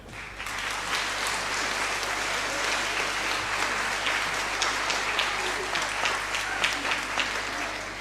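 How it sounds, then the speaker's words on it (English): Dense, sustained audience applause fills a school spring concert hall, rewarding student performers with an even wash of clapping over a faint low hum. "how about another round of applause for all our fabulous student performers today?"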